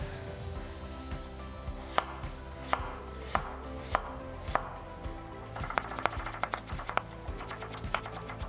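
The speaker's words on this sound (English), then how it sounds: "I'm using my finger as my guide to how thick I'm cutting the potato" A knife slices potatoes on a cutting board in a steady series of crisp, close taps that quicken into rapid chopping toward the end, without any speech.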